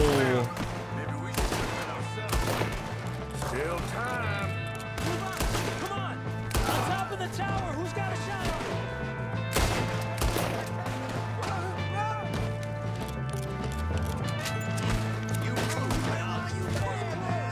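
Gunfire in Red Dead Redemption 2 during a shootout, rapid repeated shots cracking over music and game sounds, with someone talking at times.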